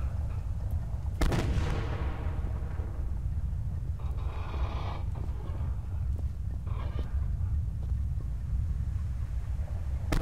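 Explosions as a base is blown up in the survival video game Subsistence: a sharp loud blast near the start of the clip trails off into a long rumbling decay, followed by further scattered bursts and crackling over steady low background noise.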